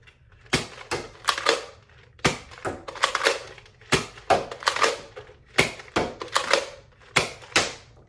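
Nerf N-Strike Maverick Rev-6 blaster firing foam darts, including X-Shot and Amosting darts: a series of sharp, close snapping shots in irregular bursts with short gaps, clear and fairly loud with no talking.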